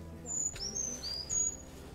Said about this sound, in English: That was a brown creeper call.